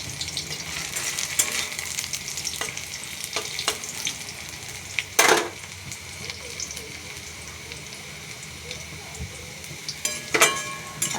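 Food frying in a pan gives a steady, quiet sizzle with scattered stirring scrapes and a couple of sharp clatters from utensils; faint speech is heard only intermittently.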